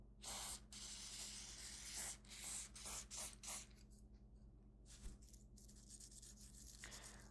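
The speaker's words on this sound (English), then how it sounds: "you just need to give this a light brushing" Stiff bristle brush scrubbing the bolt housing of a K31 rifle during gun cleaning, close and steady with quick repeated strokes in bursts, pausing briefly before resuming, with no talk.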